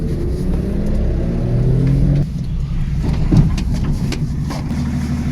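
BMW E34 with an M50B20 engine running, a steady, loud low rumble of the engine that shifts slightly in tone midway, with no talk.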